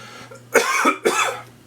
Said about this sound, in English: Sorry for the coughing, but there's nothing I can do about it.